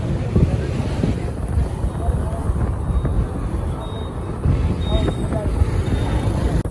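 Strong wind at the top of a 13-storey building in Surat buffets the microphone with a loud, continuous low rumbling roar that lasts the whole time, with faint voices underneath.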